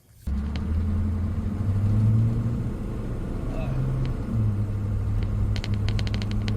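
A 1982 GMC truck with a 6.2 diesel rumbles steadily at idle with a slightly worn belt, a low continuous engine drone that holds close and even, with faint ticking near the end.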